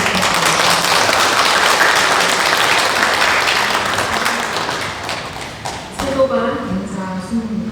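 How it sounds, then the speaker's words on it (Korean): Loud, close applause from a congregation at a Sunday Won Buddhist service, dense clapping that gradually thins and fades, giving way to a speaking voice near the end. "다시 한번 감사의 박수 부탁드립니다."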